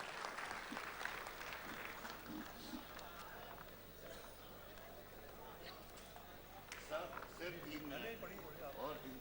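An audience at a Republic Day kavi sammelan and mushaira in Dubai applauds to welcome a poet to the mic, clapping that is fairly faint and distant and is heard alongside a speaking voice.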